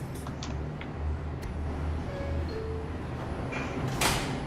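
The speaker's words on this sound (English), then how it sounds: "Stand clear of the closing doors" Subway train doors on an IRT mainline express train in the Roblox video game slide shut over a steady low rumble, with a sharp hiss and thud near the end.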